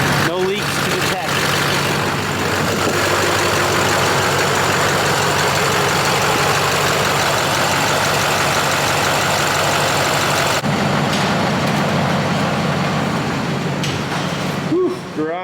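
A Duramax diesel pickup engine, freshly fitted with new head gaskets, idles steadily in a garage for about fifteen seconds, a loud continuous rumble with a voice talking over it.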